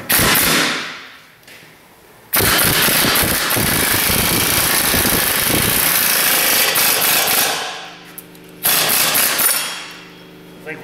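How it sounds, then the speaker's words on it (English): A sledgehammer pounding a ball joint out of a Ford Explorer Sport Trac suspension, loud and close, with rapid metallic impacts in long bursts separated by brief pauses. "We got to use a sledgehammer."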